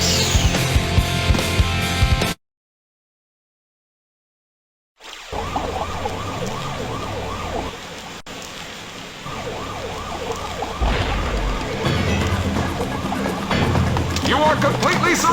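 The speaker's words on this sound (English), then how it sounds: "then he sees police cars" Police car sirens wail in Sonic Adventure, rising and falling in repeated sweeps after a brief silence, steady and fairly loud over game music and effects.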